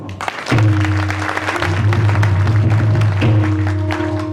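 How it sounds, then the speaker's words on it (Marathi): A kirtan audience applauds in a loud, dense burst of clapping. It runs for several seconds alongside droning harmonium tones that shift in pitch. "त्याच्यासाठी एकदा टाळी वाजवा."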